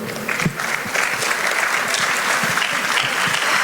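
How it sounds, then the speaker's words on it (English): Audience at a literature festival panel discussion clapping for the panelists, a loud, sustained round of applause with scattered sharper claps. "Can we all give them a big round of applause"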